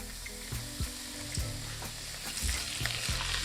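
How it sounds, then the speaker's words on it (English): Hot oil hits a Nashville hot spice glaze of dark brown sugar and spices, giving a steady close sizzle and fry with repeated stirring clinks and scrapes. "finally we can mix in the hot oil when we are just about to serve"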